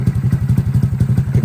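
A Honda Grom motorcycle being ridden, its small engine putting out a rapid, loud, rhythmic thumping pulse close by, steady throughout with no voices.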